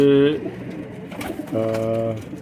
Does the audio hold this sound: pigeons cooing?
yes